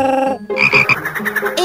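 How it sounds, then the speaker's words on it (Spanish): A frog gives a loud, close croak, a sustained call followed by a rapid string of pulsing croaks, with nothing else heard alongside it. "Ella conoció a una rana."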